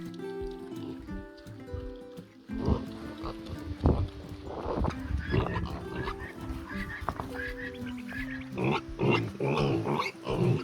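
Pigs grunting and oinking in a farm enclosure, a few young piglets among them, with irregular snorts and grunts of varying loudness that come close and continue throughout.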